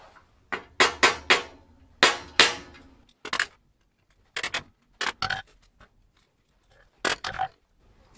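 A hammer strikes a cheap chisel against a bicycle's bottom bracket, a series of loud, sharp metallic clanks in irregular bursts of two or three, with short silences between them.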